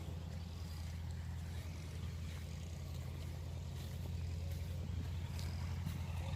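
A tractor's steady, low diesel engine idles nearby in rural Romania, a constant rumbling drone with no breaks and no talking.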